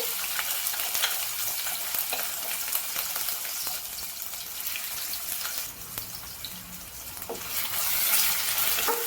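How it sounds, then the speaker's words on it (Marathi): Crushed green chili and garlic paste frying in hot oil in a pan, a dense continuous crackling sizzle with scattered pops and stirring sounds, close and steady throughout. "लसूण आणि हिरवी मिरचीचा ठेचा आपल्याला फ्राय करून घ्यायचा आहे"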